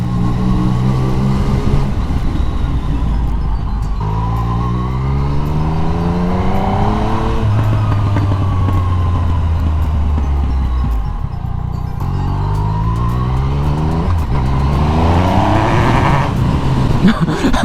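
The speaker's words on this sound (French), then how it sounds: "C'est imposant le bruit de la moto dans des ruelles comme ça." A loud Yamaha MT-09 motorcycle engine revs up and drops back several times in rising and falling sweeps, close by and echoing in narrow streets, with no voices.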